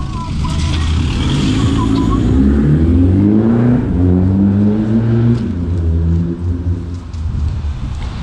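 A driving school car pulls away on a rainy street in Liverpool, its engine rising in pitch as it accelerates nearby, loud and steady over several seconds, with a voice talking over it.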